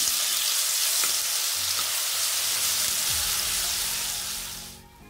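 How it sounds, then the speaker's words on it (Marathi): Garlic and onion paste hitting hot oil with crackled mustard seeds and cumin, a strong, even frying hiss up close with a few stirring scrapes, fading out toward the end without any voices. "आता यामध्ये आपण लसूण आणि कांद्याची पेस्ट सोडणार आहे"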